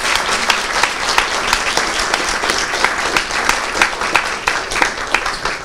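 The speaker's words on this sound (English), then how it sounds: "So give them a big round of applause." An audience applauds panelists at a sea level rise planning session, with dense, steady clapping filling the whole stretch and no voices over it.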